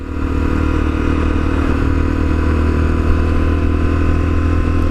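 A Lexmoto Assault, a small Chinese commuter motorcycle, running with a steady loud engine drone and low rumble, close by and unchanging throughout the few seconds, with no talking.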